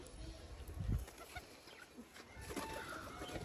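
Pet pigeons in a small home loft coo and rustle faintly, with a low burst near the start and scattered soft calls afterwards over a quiet background.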